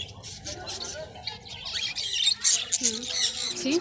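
Birds at a pet market squawk and chirp in sharp bursts around a busy crowd, with people talking underneath and the calls louder in the second half.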